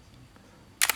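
Nikon F50 35mm SLR film camera shutter firing at the end, a sharp double mechanical click close up after near silence.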